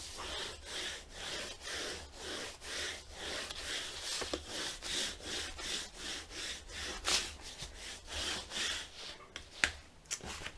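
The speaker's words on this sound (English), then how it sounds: "So grab your bone folder" A bone folder rubs quickly back and forth over paper on chipboard for a heritage mini album, giving a soft, rhythmic scraping that repeats steadily at close range.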